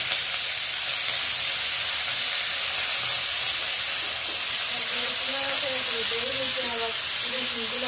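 Greens dropped into hot oil with crushed garlic send up a loud, continuous sizzling hiss, with faint voice-like tones toward the end.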